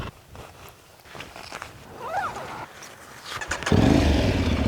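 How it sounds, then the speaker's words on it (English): A motorcycle engine starts and automatically revs up, with a strong, steady broadband roar taking over near the end after quieter rustling and movement. "Love that automatic rev up on start as well."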